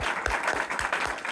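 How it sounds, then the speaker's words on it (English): An audience at a candidate forum for state house races in Monticello applauds the candidates, a short, close burst of steady clapping from a roomful of people with a few sharper claps standing out. "Give them a round of applause for showing up and sharing their views in a civil manner"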